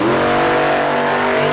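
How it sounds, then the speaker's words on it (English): A race car on the drag strip at Saskatchewan International Raceway gets on the throttle, and a loud, steady engine roar fills the whole brief moment without a break. "Into the throttle and lets out of it."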